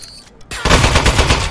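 The Aperture Science Turret in Aperture Desk Job starts up after a brief quiet and fires a loud, rapid, continuous burst of machine-gun-like shots.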